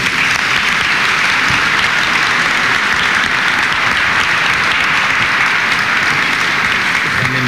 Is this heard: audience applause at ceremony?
yes